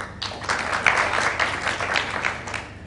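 Brief audience applause at a Ramadan competition results announcement, a short, steady patch of crowd clapping at moderate volume.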